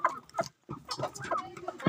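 Native and Kadaknath chickens cluck in short bursts close by while eating greens, several birds with a brief pause in the middle.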